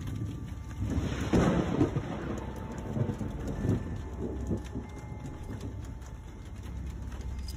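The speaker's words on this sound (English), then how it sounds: "My neighbor filmed this as a severe thunderstorm rolled through. Lightning struck the tree and my home." A severe thunderstorm with a lightning strike on a nearby tree brings a loud rumbling burst of close thunder, then lingering rolling rumble over steady rain hiss.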